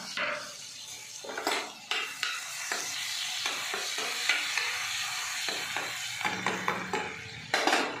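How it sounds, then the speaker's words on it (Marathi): Ginger garlic paste frying in melted butter, a steady close sizzle broken by scraping stirs and metallic clinks of a utensil against the pan at irregular intervals, with no talking. "ते बटर थोडंसं मेल्ट होऊन द्या, नंतर अद्रक लसूण पेस्ट टाका"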